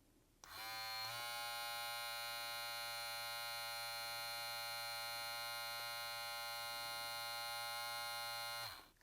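A Kemei KM-1386 hair clipper on its high speed setting switches on and drones with a steady, even buzz for about eight seconds before cutting off, heard close up in a quiet room.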